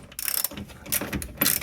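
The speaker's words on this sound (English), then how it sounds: "Now we need to loosen the subframe bolts to lower it a few inches" A hand ratchet clicks in quick, close bursts while loosening the subframe bolts on a BMW E46 3 Series, giving short runs of sharp metallic ticks over about two seconds.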